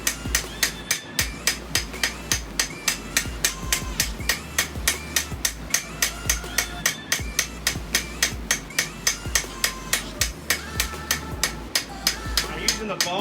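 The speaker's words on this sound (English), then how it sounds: "I'm using the ball peen side" Ball peen hammer blows shape a kitchen carver knife, striking steel in a fast, even rhythm at roughly two hits per second, close and ringing, continuing throughout.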